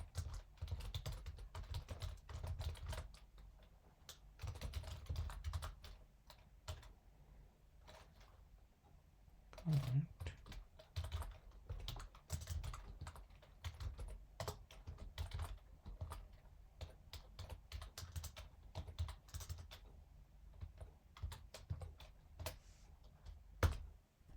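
Soft, rapid keystrokes on a computer keyboard as code is typed, irregular bursts of clicks with brief pauses, close and quiet, with no talking.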